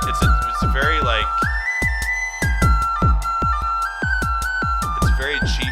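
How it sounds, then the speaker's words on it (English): A cheap whistle recorded inside a car, blowing a sustained tone that steps between pitches, backed by a steady beat of repeated sharp percussive hits throughout. "it's a very cheap sounding whistle, but it's what I had"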